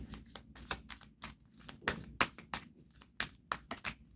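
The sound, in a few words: shuffling a deck of tarot cards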